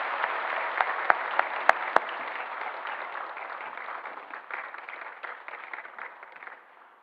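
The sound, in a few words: applause in a church service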